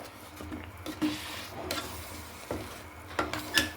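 Moong dal mixture stirred in a pan, with close, quiet scraping strokes and a few light metallic clinks of a spoon, no talk.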